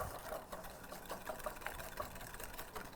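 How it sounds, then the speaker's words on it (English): Egg yolks being whisked with sugar in a bowl, a steady rapid scraping and swishing that runs continuously and close by, with no talking over it. "I'm gonna add the yolks to the bowl with that remaining, it's around like approximately 1/4 cup of sugar, and whisk this together really well."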